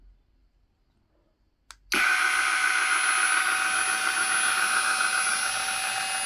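An Einhell CE-CP 18/180 brushless cordless rotary polisher on an 18-volt 4 Ah battery switches on after a click and runs at speed, a loud steady high whine holding constant to the end.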